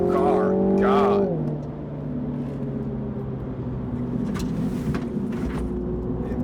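A MINI John Cooper Works GP is driven hard on a track, its engine note sliding down as it shifts, then droning steadily from inside the cabin while someone talks over it.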